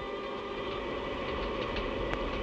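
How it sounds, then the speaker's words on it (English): An electric train with overhead pickup on a British railway in 1966, giving a steady mechanical hum and rumble with faint clicks, continuous and moderately close, with no voices. "an electric train with an overhead pickup. It's an increasingly familiar sight on Britain's railways."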